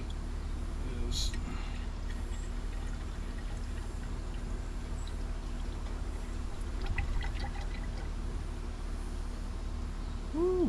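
Liquid pours steadily into a 2005 Chevy truck during repair work, a soft continuous trickle and gurgle. It stays faint under a hum with a few scattered clinks.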